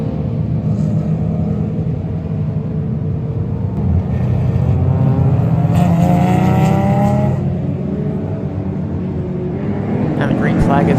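Race cars roaring off at the green flag of a 7-hour endurance race, a loud continuous engine rumble that rises as the field accelerates, with higher revving whines near the end and a voice talking over it.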